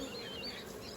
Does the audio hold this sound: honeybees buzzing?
yes